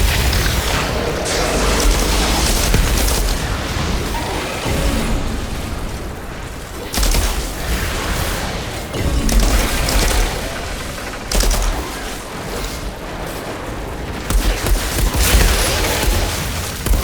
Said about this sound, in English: those are the ones that explode